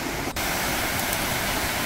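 Loud, steady rush of a Seoraksan valley stream pouring over rocks into a series of waterfalls and pools, a dense close roar that barely changes.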